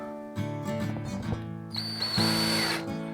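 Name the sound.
power drill driving a screw into a wall mount block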